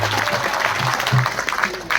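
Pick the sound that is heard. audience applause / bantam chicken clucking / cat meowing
audience applause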